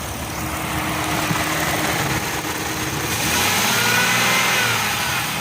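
A Jeep 4.0 engine runs, heard up close under the open hood, a steady mechanical hum and whir with a slight rise in level partway through, no talking.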